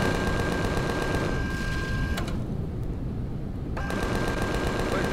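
Continuous dense rapid-fire minigun shooting in an air-combat video game, steady and loud, with the firing briefly thinning in the middle before resuming at full rate.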